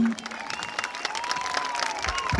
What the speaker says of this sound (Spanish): un aplausito para la máquina,